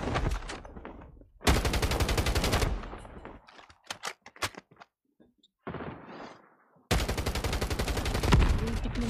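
Rapid automatic gunfire from a mobile battle shooter comes in two long, loud bursts, with scattered single shots and clicks between them. A player talks briefly in the gap.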